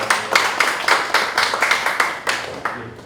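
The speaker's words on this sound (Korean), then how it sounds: "뜨거운 박수로 맞이해 주십시오." An audience at a commemorative anniversary forum claps in a steady round of applause, many hands close and loud, with sharp rhythmic peaks that fade toward the end.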